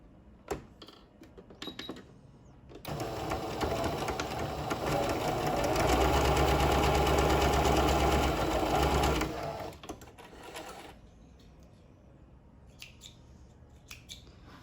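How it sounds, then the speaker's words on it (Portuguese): A sewing machine stitches the side seam of a summer bag with backstitching: short starts, then a close, steady whirring run of several seconds, followed by quiet fabric handling. "nós vamos agora costurar aqui nessa lateral com retrocesso no início e no"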